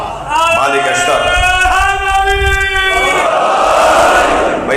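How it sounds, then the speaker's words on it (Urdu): A religious gathering where a leader calls out a slogan and a crowd answers in unison, loud and close, the sustained chant rising and then dissolving into crowd noise. "بھائی زبردستی نعرے نہیں لگواؤ، خود لگائیں گے"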